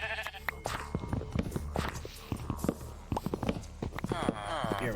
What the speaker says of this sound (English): Right now I'm getting ready to terrorize some sheep.